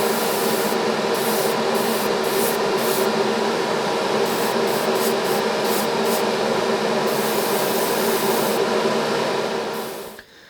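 Continuous close hiss of paint spraying onto the chutes of an HO scale model ballast car in light metallic gray, steady and loud for about ten seconds before cutting off abruptly.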